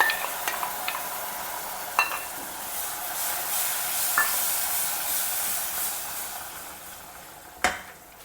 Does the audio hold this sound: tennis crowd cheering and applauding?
no